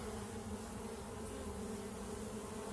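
Dense, steady drone of many honeybees buzzing in an opened hive, close and continuous with no pauses and no voices.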